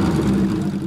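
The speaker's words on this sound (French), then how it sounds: "C'est vous qui avez allumé le moteur?" A motor runs as a steady low, droning hum, loud and continuous for the whole second, with no clear start-up surge and no voices.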